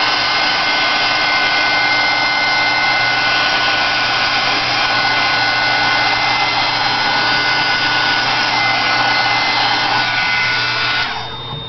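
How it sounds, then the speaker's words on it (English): A hot air tool blows steadily and loudly for about eleven seconds to dry stamping ink on burlap panels, a constant broadband whoosh with a faint motor whine, cutting off at the end. "Before I do that, I'm going to hit this with a shot of hot air"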